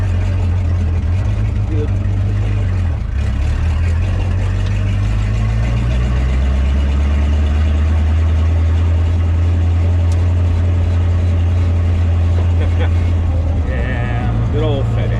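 A car engine with a lightweight aluminum flywheel is revved and idles loudly and close, the pitch rising and falling through the clip, with a voice speaking briefly over it.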